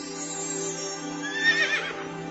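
A single horse whinnies with a long, wavering neigh that swells near the end, set over a steady hum as a sound effect behind narration, with no one speaking during it.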